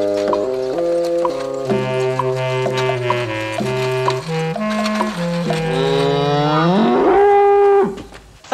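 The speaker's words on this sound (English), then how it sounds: "I've never ridden in carts pulled by cows before." Bullocks pulling a cart let out long, loud moos, one low lowing call rising and swelling near the end, with faint clopping hooves underneath.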